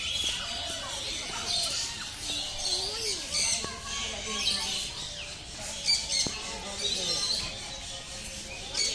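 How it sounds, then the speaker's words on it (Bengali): An exotic bird in Nahar Garden, Manikganj, gives scattered short chirps and squawks over a busy background of outdoor chatter and other small bird calls. "এটা একটা বিদেশি পাখি।"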